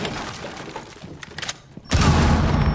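An explosion in the video game Rainbow Six Siege erupts as a sudden loud, broad blast near the end, following a stretch of scattered game noise and faint clatter, then sustains as a heavy roar.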